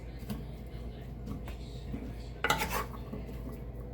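Diced potatoes and ham being mixed in a casserole dish, soft scraping and shuffling close by with a brief louder clatter of the utensil against the dish midway.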